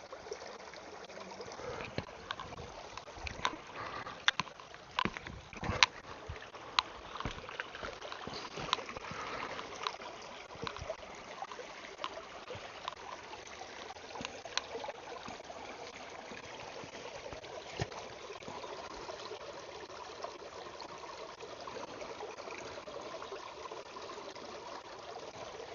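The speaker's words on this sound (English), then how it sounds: "I'm just going to scoop up some of this creek water" Creek water being scooped into a bottle outdoors, with soft trickling and gurgling over steady flowing-water background, plus a few clicks and knocks from handling the bottle.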